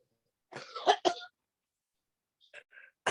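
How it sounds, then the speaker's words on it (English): A few short, rough coughs close up, followed after a pause by softer throat sounds and another cough starting at the end. "That's one of them coughs you hear on a movie"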